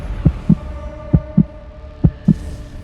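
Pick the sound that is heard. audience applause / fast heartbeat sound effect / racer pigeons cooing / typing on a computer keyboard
fast heartbeat sound effect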